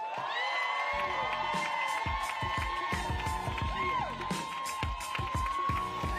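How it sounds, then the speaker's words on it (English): A crowd cheers, whoops and claps to welcome New York City Mayor Eric Adams at a Hispanic Heritage reception, with loud shouts and whistles over continuous applause and some talk mixed in. "let's welcome with a big round of applause our great mayor, Eric Adams"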